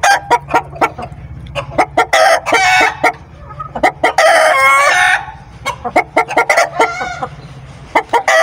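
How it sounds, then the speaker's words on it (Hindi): A Thai rooster on a small farm clucks repeatedly in loud, close bursts and crows a few times, the calls spread across the whole stretch with brief pauses between them. "हमारा थाई मुर्गा काफ़ी माशाल्लाह से प्यारा हो रहा है"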